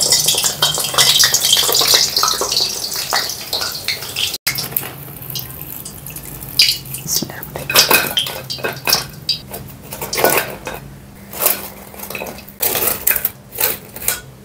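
Chicken samosas fry in a pan, with a loud hissing sizzle at first, then clattering pot and utensil knocks and scraping in uneven bursts, close by and with no talking.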